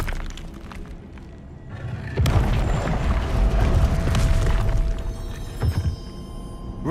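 A Confringo blasting spell in the video game Hogwarts Legacy: a deep booming blast that rolls and rumbles for a couple of seconds, followed by a shorter thump, against a low background of game ambience.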